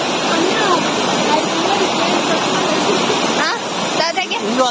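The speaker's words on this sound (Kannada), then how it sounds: "ಫಾಲ್ಸ್ ಸ್ವಲ್ಪ ಇಡೇಟುಂಡು" A waterfall rushes in a constant, loud roar of falling water close by, with people's voices rising over it near the end.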